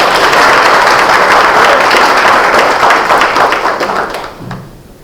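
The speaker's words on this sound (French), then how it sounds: "Est-ce qu'on peut applaudir pour l'enfant, mesdames et messieurs?" Applause from the guests at a Gabonese civil wedding ceremony, honoring the couple's child: dense, steady clapping that stays loud and close for about four seconds, then quickly fades out.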